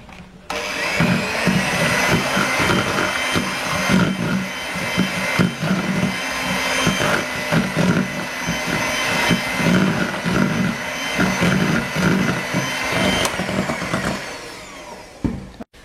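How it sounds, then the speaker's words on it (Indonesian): Electric hand mixer whirring steadily as egg yolks are beaten into nastar cookie dough, a loud, close continuous motor drone with rhythmic bumps as the beaters move through the bowl, running almost the whole time. "Masukkan kuning telur, lalu mixer sebentar aja sampai nyampur."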